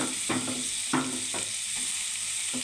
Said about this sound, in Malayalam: ഇതൊന്ന് വഴറ്റിയെടുക്കാം